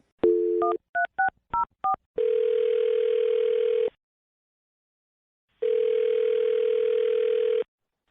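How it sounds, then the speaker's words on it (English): A rapid sequence of telephone keypad tones, then two long ringback tones separated by a pause of silence. "I'm going to dial her phone number right now"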